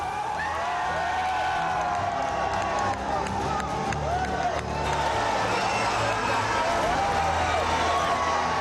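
A large crowd of students celebrating a victory at Shivaji Park in Mumbai, with cheering, whoops and clapping layered in a continuous, distant roar, while a voice speaks over it.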